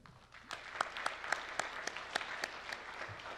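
Audience applause at a scholarship awards ceremony, a steady wash of clapping from a crowd with individual claps standing out, moderately loud and with no talk over it.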